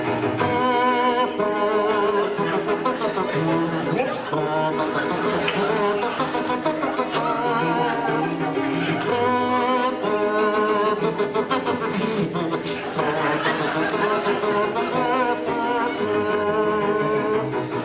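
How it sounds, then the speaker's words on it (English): A brassy ensemble plays a passionate minor-key variation of "Leaning On the Everlasting Arms," with a raspy, buzzy edge on the trombone tone from saliva in the instrument, loud and continuous. "That raspy sound you heard is caused by the presence of a considerable amount of saliva."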